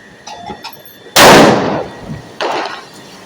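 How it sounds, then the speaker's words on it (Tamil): Diwali firecrackers going off outdoors: a loud close blast with a long crackling tail, a faint pop before it and a second burst about a second later. "ஐயோ பட்டாசு கையில வச்சுட்டு இருக்கீங்க."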